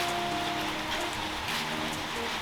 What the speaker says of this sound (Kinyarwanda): imvura iragwa